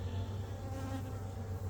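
Honey bees from an open hive colony produce a steady, dense buzzing drone, close and continuous at a low, even level.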